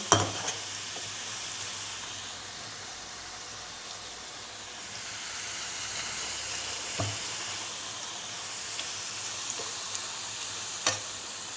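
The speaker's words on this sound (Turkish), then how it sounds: "çok güzel sesle duyduğunuz gibi çok güzel kızarıyorlar" Steady sizzling of thin potato slices frying in hot oil for homemade chips, a continuous bubbling hiss with a few sharp pops and clinks, no voices.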